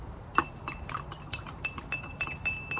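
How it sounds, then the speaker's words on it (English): A bar spoon stirs an old fashioned cocktail made with Barsmith mix in a glass, producing a quick run of bright, close clinks that settle into a steady, rhythmic tapping, with no voices. "Give it a little stir."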